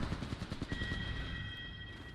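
Rapid gunfire crackles in a shooter video game, dense bursts of shots over a sustained electronic whine, loud and close with no voices.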